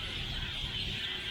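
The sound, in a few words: birds calling loudly in a city street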